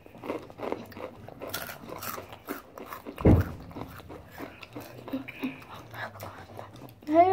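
Close, crisp crunching as someone bites into spicy rolled Takis tortilla chips, a few sharp bites standing out among softer chewing, with faint whispery voices murmuring in the background.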